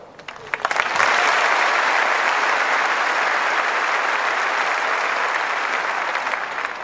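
Large Australian Open tennis crowd applauding after the 2004 Henin-Hardenne versus Clijsters final, a dense, sustained roar of clapping that swells quickly after a few scattered claps and holds steady, loud and full, fading slightly at the end.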